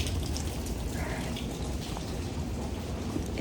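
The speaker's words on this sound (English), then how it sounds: "Está lloviendo" Steady rain pours over Old San Juan, Puerto Rico, a dense, even hiss of falling water that holds at one level throughout with no pauses and no voices.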